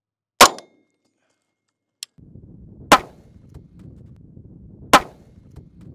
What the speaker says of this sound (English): Should we shoot it one more time? Let's shoot it one more time.